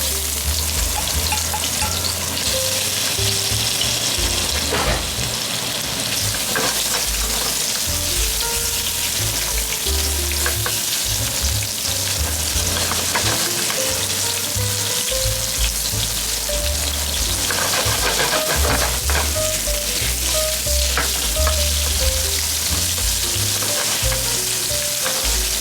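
Pea sprouts and lotus root stir-fry in a pan, with a loud, steady, close sizzle that crackles on without a break and faint clinks of stirring beneath.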